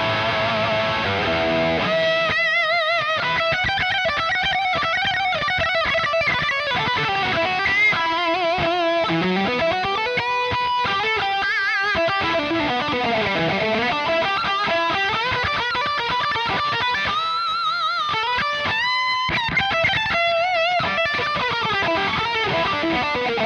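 Electric guitar played through a NUX MG30 multi-effects pedal on its factory preset, with a thick, distorted, sustained tone and continuous chords and runs filling the whole stretch.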